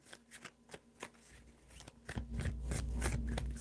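Tarot cards being shuffled by hand, a run of crisp riffling flicks that builds into a denser, louder continuous shuffle toward the end, close and alone with no talk.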